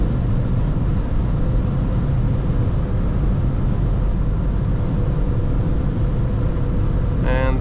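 Steady broadband road and engine drone from inside a VW Polo V 1.6 TDI 90 HP with 7-speed DSG, cruising in seventh gear at about 3000 RPM and 170 km/h on a highway, loud and continuous with a brief faint tick near the end.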